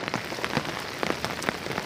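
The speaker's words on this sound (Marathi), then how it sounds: "पाऊस थांबण्याचं नाव घेत नाही पाऊस थांबणार नाही" Heavy, persistent rain patters steadily on a hard surface close by in Beed district, Maharashtra, with individual drops splatting in quick irregular succession.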